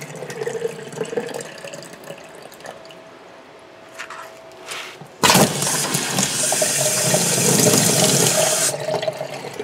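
A utility laundry sink faucet turns on abruptly and hot water runs loudly and steadily for several seconds, then eases off slightly.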